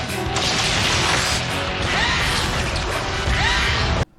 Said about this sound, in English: Why does his bombs make that sound?